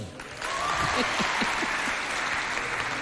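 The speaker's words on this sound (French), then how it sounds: "applaudissez pour celui qui s'appelle Nuki Djedaloum qui anime cette émission." Applause from a studio audience at a television show swells in and continues steadily, a dense patter of clapping throughout.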